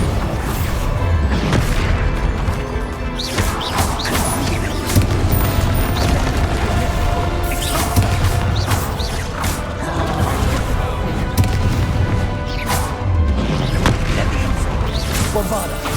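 Bombarda exploding spells in the video game Hogwarts Legacy, heavy booms and crashing blasts repeating through dense, loud combat noise with music and effects throughout.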